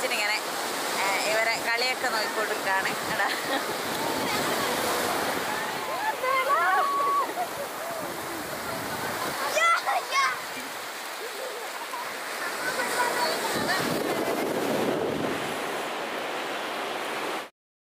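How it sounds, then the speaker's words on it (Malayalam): Wind and sea waves at a beach form a loud, continuous surf wash with gusty noise, and voices can be heard over it at times. "ഇവിടെ ഭയങ്കര നോയ്സ് കേൾക്കുന്നുണ്ട് കാറ്റിൻ്റെയും കടലിൻ്റെയൊക്കെ."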